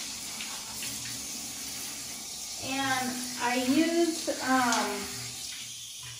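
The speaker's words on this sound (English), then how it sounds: "now I've got her in the shower" Shower water runs steadily while a hairless Chinese Crested dog is washed, a constant hiss in the background under a voice talking.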